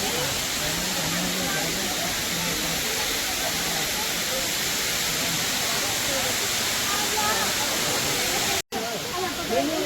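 A constant, dense hiss of rushing water from a waterfall at Rock Garden, Chandigarh dominates, close and loud, with faint voices beneath it and a brief dropout near the end.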